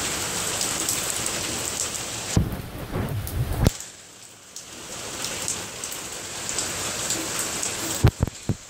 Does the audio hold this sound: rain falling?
yes